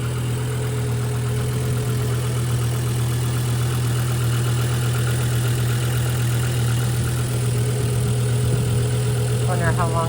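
A Volvo car engine idles steadily with a deep, constant hum right after its battery is replaced, running near and unbroken for the whole stretch, with a brief chirp near the end.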